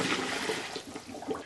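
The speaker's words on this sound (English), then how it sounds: "Let's get rid of all that steaming water in there." Steaming water from boiled potatoes pours off out of a pot in a steady, close, rushing splash that fills the moment with no talk.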